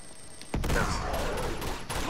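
Gunfire in the video game Uncharted 2: Among Thieves, a sudden loud burst followed by a continuous rumbling volley with echoing cracks, no talk over it.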